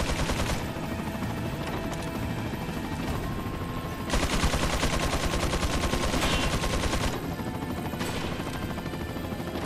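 Sustained automatic fire from machine gunners in the Resident Evil 4 helicopter backup stage, a steady loud rattle of shots that grows denser in a rapid burst midway, with no talk.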